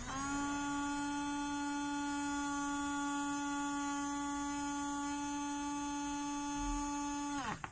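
Small DC motor with a filtering capacitor on its supply runs with a steady, even electric whine and buzzing hum, constant in pitch throughout, then cuts off abruptly at the very end.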